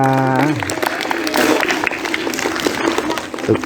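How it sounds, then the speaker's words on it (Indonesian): Classroom applause for a schoolchild, with lively clapping from children rising right after a brief sustained musical tone and continuing at close range with uneven bursts. "Tepuk tangan untuk teman kita."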